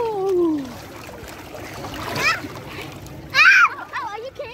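Splashing water while swimming in the sea at Clacton-on-Sea, with bursts of splatter and trickling amid excited children's voices and nearby talk.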